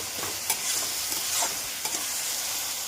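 Onions frying with ginger-garlic paste, chilli and salt in a pan, a steady close sizzle broken by a few sharp stirring scrapes.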